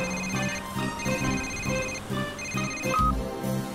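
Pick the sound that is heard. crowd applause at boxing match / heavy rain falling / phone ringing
phone ringing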